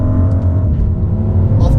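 A BMW M2 with a 370-horsepower engine hums under a steady exhaust drone, loud and close, while someone speaks over it.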